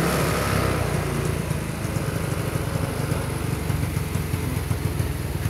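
A Honda Wave 100 motorcycle, long parked, idles steadily up close with a loud, even engine putter; the revs settle slowly, consistent with an air jet set too large.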